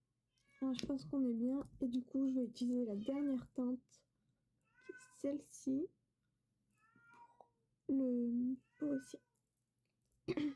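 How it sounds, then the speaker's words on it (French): A cat meows several times in a quiet indoor room, short pitched cries heard close by between stretches of someone talking in French. "Je suis désolée si vous entendez un chat miauler."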